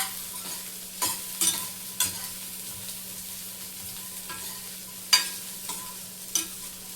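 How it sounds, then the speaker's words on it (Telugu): Chopped onions fry in a pan and are stirred by hand, a soft continuous sizzle broken by sharp, irregular scraping strokes of the spoon, close and fairly quiet, with no talking. "ఆనియన్స్ని కూడా బాగా వేగనివ్వండి."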